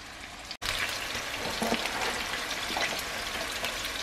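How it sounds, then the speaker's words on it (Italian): Chicken cooking in a pan, liquid bubbling and frying with a steady broadband sizzle that starts after a brief cut and stays fairly quiet and continuous. "qui sta, come vedete, bollendo, quindi vado un pochettino ad abbassare la fiamma"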